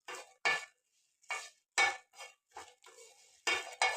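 Dried red chillies stirred and roasted in a pan, a series of close scraping strokes of a spoon against metal in uneven bursts with short pauses between, no talk.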